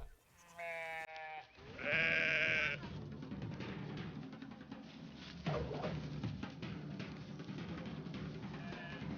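Sheep bleat on a Kazakh family's migration through the Xinjiang borderlands, with two loud, close, wavering calls near the start, then quieter livestock sounds and outdoor background noise.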